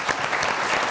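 A television talk show studio audience gives a guest a brief burst of dense applause, loud and steady for under a second with no voices over it.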